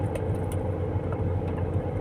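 Steady road traffic rumbling past near El Puyat, a continuous low hum of cars with faint ticks and rattles on top, no talking.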